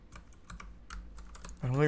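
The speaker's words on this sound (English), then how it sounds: "I don't think there's a single normal key that I haven't pressed yet." A computer keyboard being tapped during PC game play: a quick run of close, light key clicks for over a second, then a voice starts speaking.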